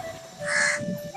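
A single cartoon-style crow caw, loud and close, standing alone over a faint steady tone.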